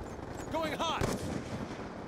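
Gunfire from a sentry gun in the Black Ops 2 video game: a short, loud burst near the middle of a brief stretch of busy game audio, with voice-like tones in the mix.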